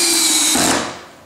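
A cordless drill with its clutch set low drives a screw into wood, giving a short steady high motor whine that drops away as the trigger is released.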